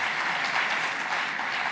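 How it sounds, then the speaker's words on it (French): An audience applauds at a general policy speech, a steady, dense wash of clapping hands sustained throughout without pause. "Oui, on peut l'applaudir."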